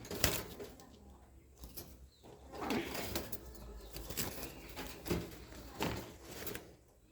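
A pigeon held in hand gives soft low coos with bursts of wing flapping and rustling, close and uneven, spread across the clip in short bouts.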